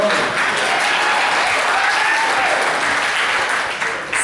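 Loud, dense applause from a church congregation fills the room, a continuous wash of clapping held evenly for about four seconds before easing slightly at the end.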